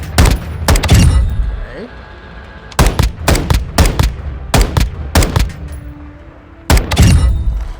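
An assault rifle in Modern Warfare 2 fires in tap-fire bursts of loud, sharp close-range shots. Clusters of two to three quick cracks are separated by short pauses, and a voice speaks briefly near the start.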